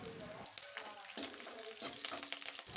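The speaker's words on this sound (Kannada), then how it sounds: "ಈಗ ಈರುಳ್ಳಿ ಫ್ರೈ ಆಗಲಿ" Onions with curry leaves fry in a pan, producing a loud, dense sizzle that swells and crackles as the mixture is stirred, heard close up.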